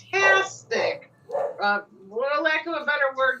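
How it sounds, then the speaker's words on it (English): A dog barks in the background while people talk over it during a live evening stream; the barks are intermittent and partly masked by the voices. "Sorry for the dog barking in the background."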